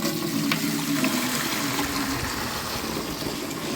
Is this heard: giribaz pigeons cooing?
no